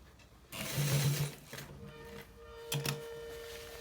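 A sewing machine stitches a designer shirt collar in two short mechanical runs, a longer whirring burst and then a brief second one, close and fairly quiet.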